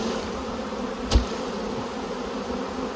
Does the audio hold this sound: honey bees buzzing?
yes